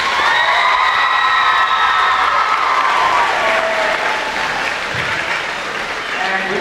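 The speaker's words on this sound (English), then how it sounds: "let's give all your teachers a big round of applause." A large crowd at a high school pep rally for a Flomaton versus Opp game applauds the teachers with loud, sustained clapping and scattered cheers and whoops that fill the room and taper slightly toward the end.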